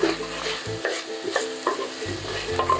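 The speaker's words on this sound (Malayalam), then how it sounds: "സവാളയും തക്കാളിയും നല്ലോണം വഴറ്റിയിട്ടുണ്ട്." Onions and tomatoes are sautéed in a pan for Thannam chicken curry: a soft sizzle sits under repeated scraping stirs in an uneven rhythm, close to the listener, with no speech.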